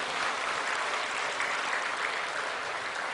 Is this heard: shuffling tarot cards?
no